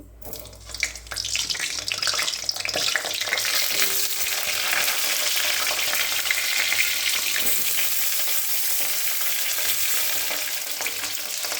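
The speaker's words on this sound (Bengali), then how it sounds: "এখন আমি পটলগুলোকে আমি হালকা করে ভেজে নেব।" Slit pointed gourds (potol) fry lightly in hot oil with a steady broadband sizzle that runs the whole time, alone and without talk, along with some faint clinking.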